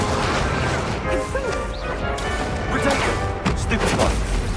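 A Confringo spell blast in Hogwarts Legacy lands amid game combat, a loud explosive crash followed by rumbling debris and further impacts, with a voice calling out over the noise.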